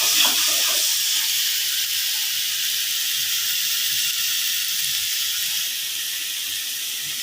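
Fish and potatoes fry in a pan with garlic paste and bay leaves, giving off a steady, close sizzling hiss that holds at an even level throughout.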